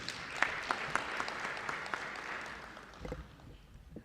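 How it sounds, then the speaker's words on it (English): Audience applause at a national CSO convention, a dense spread of clapping that holds steady for about three seconds and then thins out and tapers off. "please just give him a round of applause"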